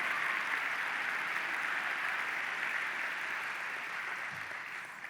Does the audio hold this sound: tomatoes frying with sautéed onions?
no